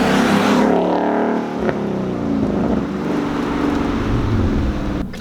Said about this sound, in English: We are now setting off in the 2016 Mustang GT performance pack.